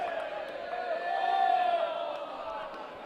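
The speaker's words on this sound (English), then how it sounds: "if you're wondering what the supporters are cheering about" Supporters cheering at a Victoria Highlanders vs Calgary Foothills soccer match: a steady, distant crowd roar with whoops that swells briefly in the middle, then settles.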